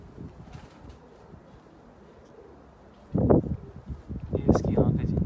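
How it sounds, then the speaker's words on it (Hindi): A home-bred pigeon coos in low, rolling bursts near the end, close by, after a stretch of quiet rustling, with a voice present. "ये एक और कबूतर है। ये घर की ब्रीड है अपने।"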